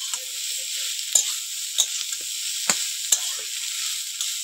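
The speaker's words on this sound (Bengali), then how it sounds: "এবার ভেজে রাখা ব্রোকলি এর মধ্যে দিয়ে দেবো। দিয়ে ভালো করে নেড়ে চেড়ে একটু ভেজে নেব।" Broccoli and egg sizzle steadily while being stir-fried in a pan. A constant bright frying hiss carries a few sharp scrapes and taps of the spatula stirring, close and fairly loud.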